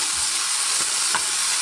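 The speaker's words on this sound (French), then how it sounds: "On mélange pour faire torréfier la farine." Flour toasting with chicken in a hot pan for lemon chicken, giving a steady close sizzle with a couple of soft scraping stir strokes, no voices.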